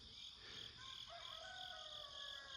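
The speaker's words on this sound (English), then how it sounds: "that was one of my neighbor's roosters" A distant rooster crows faintly in a quiet rural setting, its drawn-out call barely rising above a steady chorus of insects or frogs, with no other activity nearby.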